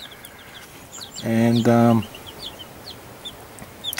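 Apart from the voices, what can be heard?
chickens clucking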